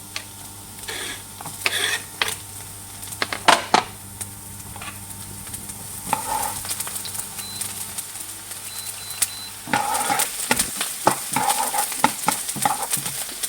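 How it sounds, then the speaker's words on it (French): Chopped onion sweating over lowered heat in a frying pan, a soft steady sizzle with scattered ticks and stirring scrapes from a utensil, close by with no talking. "Donc je baisse mon feu, hein, je veux pas colorer l'oignon. Donc une fois qu'il a sué"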